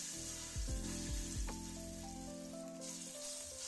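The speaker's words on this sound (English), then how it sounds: "Throw in the fatty tissue of the oxtail to render and add flavor." Fatty tissue from oxtail sizzles in oil with a steady, close crackle, while a few low thuds land early and sustained tonal hums run beneath.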